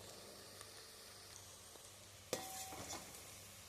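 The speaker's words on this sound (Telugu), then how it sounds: "బాగా రెడ్డిష్ కలర్ రావాలండి, అప్పుడు దాకా వేగనివ్వండి" Chicken kofta curry ingredients frying in a pan, a quiet steady sizzle with a sharp clink of a utensil and stirring partway through.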